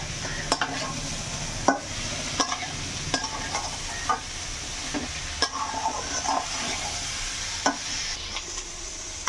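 Spices with chilli powder, cumin powder and salt stir-fried in a pan, a utensil scraping and tapping at irregular intervals over a constant sizzle, close by with no talking.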